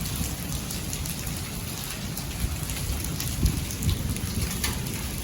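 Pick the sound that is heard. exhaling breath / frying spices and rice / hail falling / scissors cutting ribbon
hail falling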